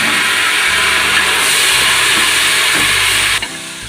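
Chopped tomatoes with green chillies sautéing in a pan for mutton kulambu, a loud, continuous hissing sizzle that holds steady throughout and eases slightly in the final moments.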